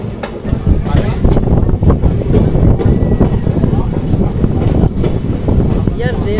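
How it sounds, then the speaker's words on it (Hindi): Moving passenger train on the Bhagalpur to Barharwa route in India, heard from inside with a steady loud rumble, rattling, and wind noise, while people talk over it. "ट्रेन तो अपने राइट टाइम पे चल रही है"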